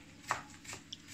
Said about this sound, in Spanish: Estamos picando un poquito ya para darle el toque final al arroz con camarones